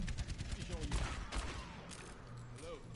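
Bursts of gunfire in the Overwatch shooter game crackle in quick clusters, loudest in the first half and thinning toward the end, mixed with other game effects.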